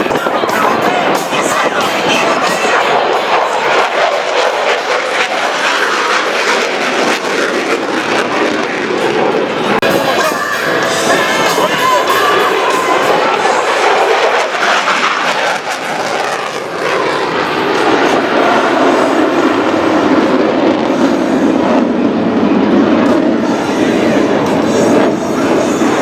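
A jet aircraft passing at an airshow at just under 600 knots, a loud continuous roaring rush of engine noise that swells and shifts in pitch across the pass, with no pauses.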